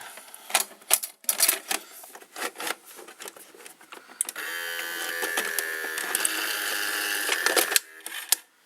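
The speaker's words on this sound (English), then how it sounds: "let's insert the cassette in this VCR" Cassette sliding into a Sony or Sanyo Betamax VCR: a run of sharp mechanical clicks and clunks, then a steady whirring motor and loading drone for about three seconds before a final clunk.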